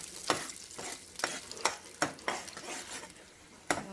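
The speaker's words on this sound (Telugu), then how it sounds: "ముందు ఇలా ఫ్రై చేసుకోవాలండి ఎగ్స్ని." Eggs with a little salt fry in hot oil in a pan, giving a soft crackling sizzle broken by about seven sharp scraping stirs of a spatula at a steady, uneven rhythm.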